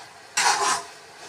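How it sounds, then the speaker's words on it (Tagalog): A noisy kitchen stove cooking bopis lets out a loud, close rushing hiss that lasts about half a second, then drops back to a fainter steady background roar. "Kasi na maingay yung kalan ko guys."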